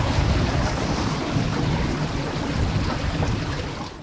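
Strong wind buffets a microphone outdoors up a hill beside a WW2 Willys jeep, a loud continuous roaring rush that swells and eases slightly without any pause.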